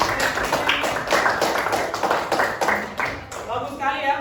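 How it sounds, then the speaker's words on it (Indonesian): A classroom gives a round of applause for a student's question: dense, continuous clapping from a group lasts several seconds, with voices mixed in and the clapping thinning toward the end. "Tepuk tangan dulu untuk pertanyaan dari Sirandayani."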